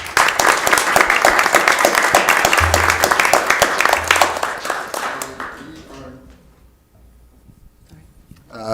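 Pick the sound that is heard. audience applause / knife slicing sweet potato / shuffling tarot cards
audience applause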